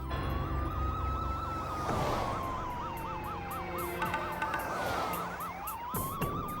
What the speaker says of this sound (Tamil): போலீஸ் வண்டி நமக்கு பின்னாடி வருது.